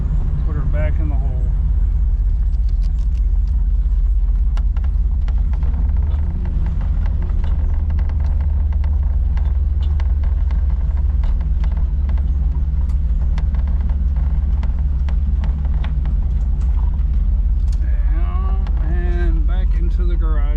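A car rolls back into a garage, its engine producing a loud, close, continuous low rumble throughout, with faint voices near the end.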